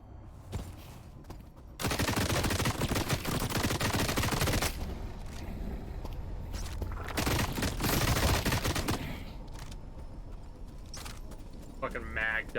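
Long sustained automatic gunfire rings out in The Cycle: Frontier as a magazine is emptied into a Marauder enemy, a dense loud burst running for seconds, then softer shots and game sounds.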